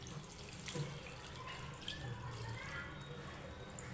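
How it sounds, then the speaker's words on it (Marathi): Water runs faintly into a tall pot as fenugreek leaves are washed, a low, steady splashing flow with faint talk underneath. "कधीही भाज्या धुताना हे असं उंच पातेलं घ्यायचं"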